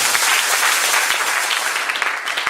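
A church congregation bursts into dense, sustained clapping, loud and close, many hands at once with no break across the short stretch.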